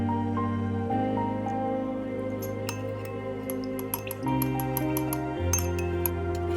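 A spoon clinks lightly and repeatedly against a bowl while soy, dark soy, oyster and fish sauces are mixed together, scattered close ticks over a steady musical background.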